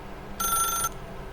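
A telephone in the video game The Stanley Parable 2 gives one short, bright electronic ring burst lasting about half a second, with quiet room tone before and after.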